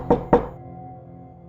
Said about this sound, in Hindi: तभी वापस से नॉक हुआ।